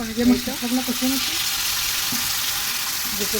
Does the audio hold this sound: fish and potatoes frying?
yes